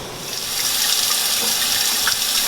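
Boiling water with fiddleheads pours steadily into a colander in a sink, a continuous close gushing splash that holds at an even, loud level with no talking.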